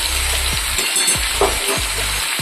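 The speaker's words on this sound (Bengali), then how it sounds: "ভালো করে নাড়াচাড়া করে নেব" Ginger, salt, turmeric, cumin and chili powder being stirred in a hot pan for rohu fish curry, with a steady sizzle and rhythmic scraping strokes of the spoon, close and loud.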